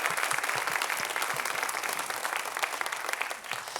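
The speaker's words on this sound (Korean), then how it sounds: "박수 한번 쳤으면 좋을 것 같아요" A church congregation claps together during an autumn thanksgiving and praise concert at Washington Pilgrim Church: steady, dense applause from a full room with crisp individual claps, sustained for several seconds at moderate level.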